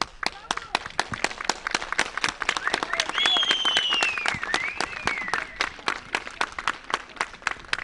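Scattered clapping from a gathered group greeting travelers returning home after 14 days of quarantine at a KYK dormitory in Anamur, steady and crisp over several seconds, with a voice talking over part of it.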